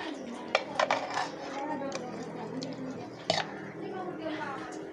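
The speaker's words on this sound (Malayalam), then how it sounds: "ഒഴിച്ചതിന് ശേഷം നല്ലപോലെ ഇളക്കിയെടുക്കാം." A vegetable curry is stirred in a pot after a ground paste is poured in, with a few sharp utensil clinks and scrapes against the pot under continuous nearby talk.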